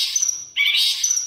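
Cendet, a long-tailed shrike songbird, sings up close with a loud, shrill, sustained whistling call that shifts pitch midway through.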